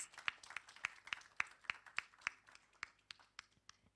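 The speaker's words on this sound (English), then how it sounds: "Please give a big round of applause" Sparse, steady hand claps from an audience at a women-in-arms military festival session, evenly spaced sharp claps, faint and somewhat distant, with no talking over them.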